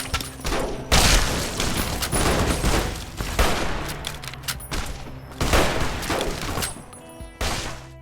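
Gunshots and impacts in a modded Fallout New Vegas, loud bursts of firing and crashing hits in repeated volleys with brief pauses between them, heard close and without talk.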